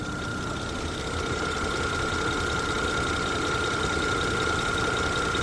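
A 2011 3000cc gasoline car with 310,000 km on it, its engine idling as a steady, close hum with a constant tonal whine throughout and no talk.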